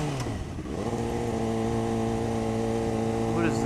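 Suzuki GSXR 600 motorcycle engine running steadily, a sustained buzzing drone whose pitch climbs briefly early on then holds level, close and fairly loud.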